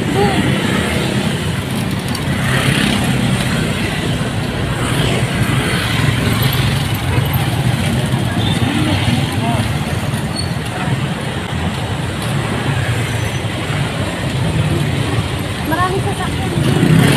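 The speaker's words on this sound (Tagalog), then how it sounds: "Maraming sasakyan." Busy road traffic with many vehicles makes a dense, continuous rumble and wash of engine noise that stays steady and loud throughout, with a voice faintly under it.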